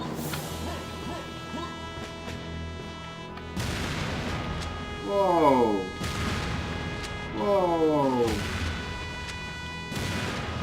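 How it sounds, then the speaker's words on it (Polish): Gunfire and explosions from the video game Serious Sam 2, heavy booming blasts arriving in repeated waves over a dense, continuous battle din, with swooping tonal sweeps between hits and a voice talking beneath. "wystrzały, te wybuchy. Bum, bum, klas."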